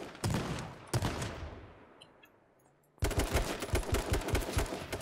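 Gunfire in the online shooter H1Z1: a loud close shot and a second blast that fades into a decaying tail, then a sudden run of rapid automatic fire packed with quick repeated bursts, no voices.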